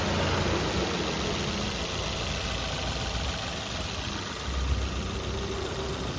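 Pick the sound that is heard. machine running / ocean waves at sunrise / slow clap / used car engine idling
used car engine idling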